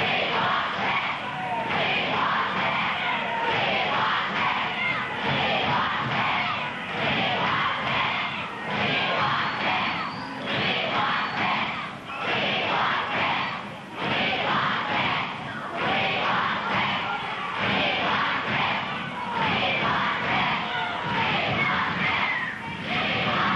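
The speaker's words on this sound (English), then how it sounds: "You hear the cry of the crowd." A pro wrestling arena crowd in 1980 roars and yells continuously during a match, a dense, steady wall of cheering with swelling surges, under intermittent commentary.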